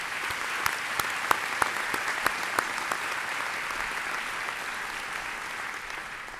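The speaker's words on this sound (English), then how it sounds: "That deserves a round of applause." A large audience at the inauguration ceremony of NJIT president Joel Bloom applauds for several seconds, a steady wash of clapping with a few sharp, close claps standing out early on and fading gradually.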